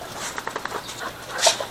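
Excited dogs jumping up and panting, with short whimpering whines and scrabbling, faint and close in a brief burst.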